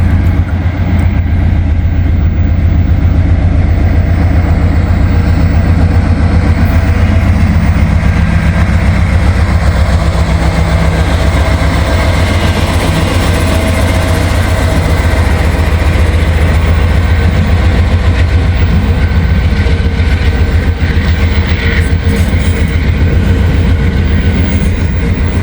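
A train hauled by a single locomotive passes close by, a loud, steady engine drone and rolling rumble with rhythmic rail clatter that holds strong for the whole stretch.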